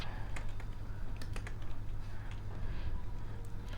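Rapid, close keystrokes on a computer keyboard while C code is written, soft irregular clicks over a steady low hum.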